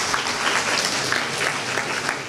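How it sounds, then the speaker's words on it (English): A graduation reception audience for a School of Communications bursts into brief, dense, even clapping that holds steady throughout. "Please give her a round of applause."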